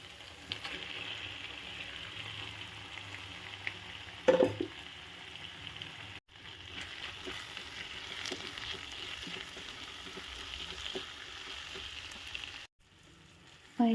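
Mushrooms frying in a pan for restaurant-style chilli mushroom give a steady, close sizzle, with a knock of utensil against pan and a couple of abrupt cuts in the sound.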